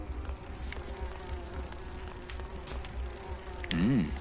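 Bees in the video game Grim Fandango give a continuous low droning buzz, moderately loud and steady, with a brief rising and falling tonal blip near the end.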